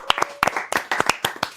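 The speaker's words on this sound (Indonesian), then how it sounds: "Tepuk tangan guys." A few people clap in a small indoor group during a casual podcast chat, with sparse, uneven claps close by and some background voices.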